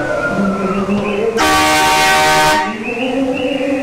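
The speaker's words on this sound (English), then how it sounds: "the truck honking the horn at the end" A loud truck horn blasts for about a second and a half, long and steady, against a busy amusement park background of engine and crowd noise.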